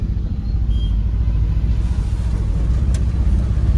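An auto rickshaw drives through a rain-soaked street beside a river, its engine a heavy, continuous low rumble close by, with road and wind noise around it and no voices.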